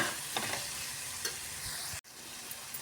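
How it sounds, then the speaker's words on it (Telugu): Vegetables frying in a pan with turmeric and salt for kichidi give off a steady, close sizzle with a few soft stirring scrapes and a brief break near the end. "ఈ విధంగా వెజిటేబుల్స్ అన్నీ పచ్చివాసన పోయే వరకు ఫ్రై చేసుకుందాం."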